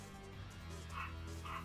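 Small dogs yip and squeak in short whimpering bursts, fairly faint and close, in a game scene from a Street Fighter 5 story mode.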